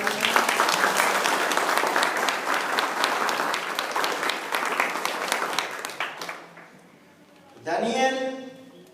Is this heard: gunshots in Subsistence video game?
no